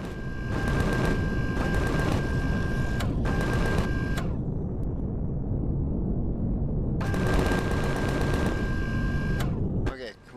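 Weapons fire at a spawner in Empyrion Galactic Survival, two long bursts of rapid, loud automatic shooting separated by a pause, with talk in the background.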